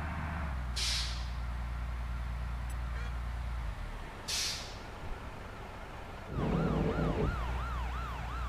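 Ambulance siren in Bus Simulator Indonesia, wailing in a rising-and-falling pattern that swells loud near the end, over a steady low bus engine drone with a couple of brief horn-like bursts earlier.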